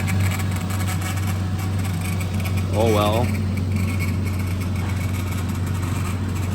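Rally-style off-road car built in a back yard, idling with its muffler cut off, gives a loud, steady low rumble throughout while a voice speaks briefly over it.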